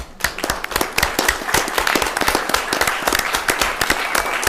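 A board meeting audience applauds the softball team with dense, steady clapping close by, sustained at full strength for several seconds.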